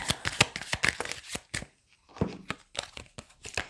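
Tarot cards are shuffled in quick riffling bursts with short pauses between, crisp and close, with no talking.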